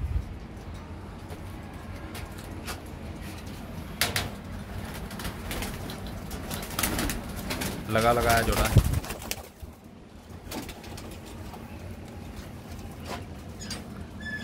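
Kusri pigeons, a breeding pair, coo and flap their wings close by under someone talking, with a busier burst of wingbeats and calls near the middle.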